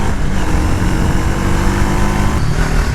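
Wind-blasted engine drone from a Triumph Tracker 400 motorcycle on the move, loud and steady throughout, with no talking.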